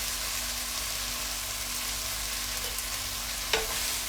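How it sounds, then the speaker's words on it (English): Chicken curry with tomatoes, onion and ginger frying on high heat, a loud steady sizzle throughout with a short scrape of stirring near the end. "the secret of a curry is that everything has got to be fried really well"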